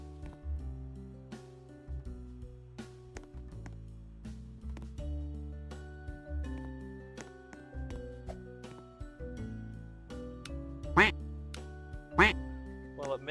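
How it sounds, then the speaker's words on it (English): Quacking from a duck decoration item in the Roblox game Lumber Tycoon 2 sounds twice near the end, loud and clear over a steady bed of game music. "Well, it makes the quack noise, so that's cool."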